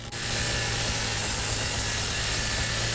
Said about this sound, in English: I got the chainsaw as well